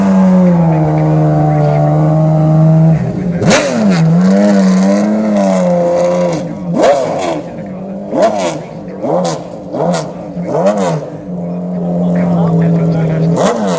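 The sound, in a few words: race car engine revving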